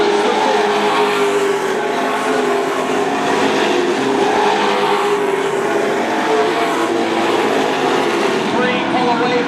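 Race cars roaring around an oval motorsports track during a class race, a loud steady wall of engine noise from the pack with no break, up close and continuous.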